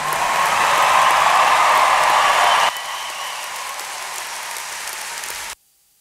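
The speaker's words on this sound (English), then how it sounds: "Let's give our graduates a round of applause" Dense audience applause for graduates at a Radford University spring hooding and commencement ceremony, loud at first, then dropping to a quieter steady clapping before cutting off abruptly.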